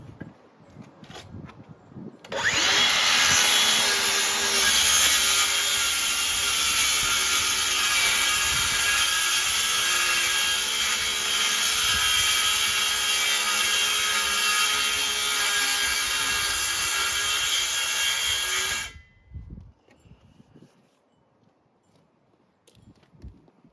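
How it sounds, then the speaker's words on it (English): Cordless circular saw cross cutting 3/4 inch plywood on a workbench build, a loud high-pitched whining cut running continuously for about sixteen seconds, then winding down into quiet handling sounds. "I know you guys saw when I made this cut, I made it with a cordless saw."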